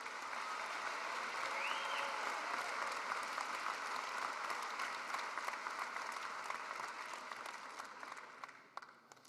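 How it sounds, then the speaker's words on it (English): Audience applause for graduates at the Eastern Illinois University 2019 fall commencement, a large hall full of steady, dense clapping that holds at even volume before tapering off at the end. "Let's have a round of applause for these graduates."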